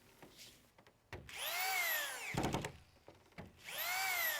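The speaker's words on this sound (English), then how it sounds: "Attach the deck plywood to the top deck support stud using several 1-inch screws" A power drill drives 1-inch screws into deck plywood on a halfpipe's top deck support stud, whining up and slowing down in two separate bursts with brief quiet handling between them.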